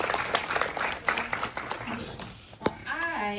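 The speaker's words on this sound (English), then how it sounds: "Round of applause." Applause from the crowd at a candidate forum, loose and uneven clapping that thins out partway through. Voices and chatter mix in, with a sharp knock near the end.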